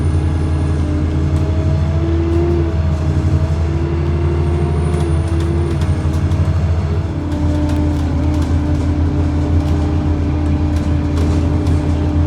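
A Stagecoach South West service 300 bus, the Exmoor Coaster, pulls into a small roadside stop at Comage, its engine droning steadily up close with tonal whine shifting, and a brief air-brake hiss partway through.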